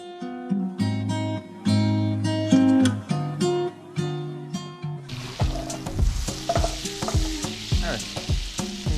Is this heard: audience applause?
no